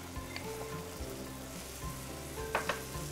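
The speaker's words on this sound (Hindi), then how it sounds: "इसमें हम डालेंगे थोड़ा सा कर्ड" Curd spooned into a hot sizzling pan, a steady quiet frying hiss with a few soft clinks and stirring taps, close and without talk.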